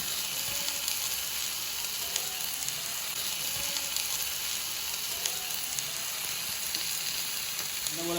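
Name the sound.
chicken sizzling as it is added to tomato masala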